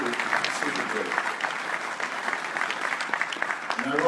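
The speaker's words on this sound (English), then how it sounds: "please give a round of applause to our mascots" Audience clapping for costumed mascots, a shark among them, at an indoor event in Indianapolis; steady, dense applause from a crowd holds throughout.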